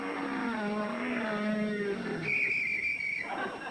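A person whistles an imitation of a hummingbird call: a short, steady, high whistle that follows a lower voiced sound, close and fairly quiet.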